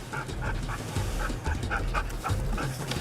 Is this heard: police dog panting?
yes